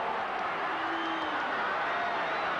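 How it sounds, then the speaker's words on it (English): A rugby league crowd at a 1980 Wests versus Manly match roars in a broad, sustained wall of yelling from a large stadium, steady and fairly loud throughout. "The crowd yelling for that."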